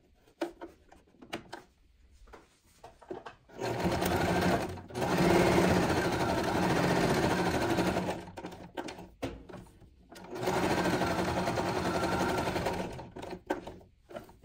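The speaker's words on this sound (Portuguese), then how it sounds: "Que eu vou passar um pesponto, dando a volta nessa parte" A sewing machine topstitches around a fabric bookmark with a pocket, whirring steadily in two long close runs separated by a short pause, with light handling clicks and rustles around them.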